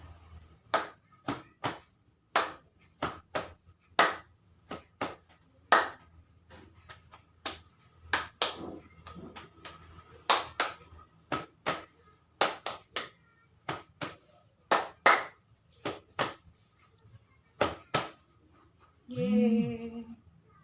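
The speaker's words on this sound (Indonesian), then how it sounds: "Mari kita tepuk kampian seperti ini" Sharp hand claps in a repeating rhythmic pattern with brief pauses between phrases, ending with a short vocal sound.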